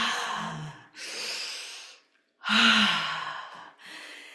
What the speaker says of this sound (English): And inhale.